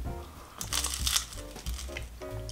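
Crunchy homemade popcorn balls made from plain, unbuttered popcorn and sugar, being chewed up close in soft, irregular crunches with brief pauses.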